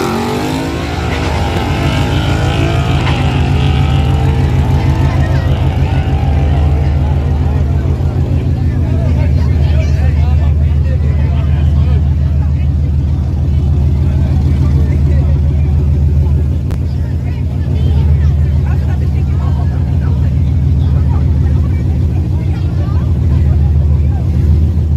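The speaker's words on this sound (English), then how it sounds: "Yeah, this car pretty loud." Loud drag racing car at a dragstrip grudge racing event, a heavy engine roar that revs and rises early then holds a deep rumble, with people talking over it.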